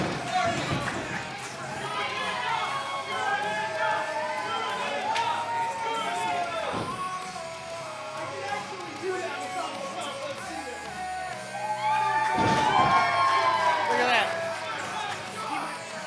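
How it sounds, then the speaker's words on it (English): Crowd at an indoor independent wrestling title match cheers and chatters continuously, swelling louder near the end, with an announcer's voice over the noise. "And the crowd clearly behind John Campbell this evening"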